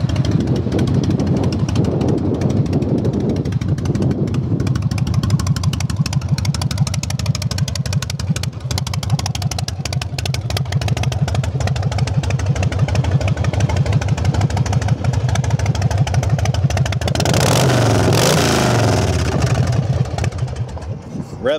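1994 Harley-Davidson Heritage Softail Classic FLSTC V-twin engine running close by with a steady loping rumble, then a rev rising and falling near the end.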